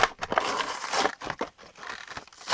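Beyblade Burst packaging being unwrapped makes irregular crinkling, crackling and tearing of cardboard and plastic, close and moderately loud, in uneven bursts with short pauses.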